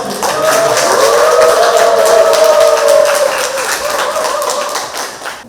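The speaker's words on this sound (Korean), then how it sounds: "다시 한번 큰 박수 부탁드립니다" Applause from the audience at a book concert public lecture, steady and full for about five seconds and fading slightly at the end, with a faint sustained tone running underneath the clapping.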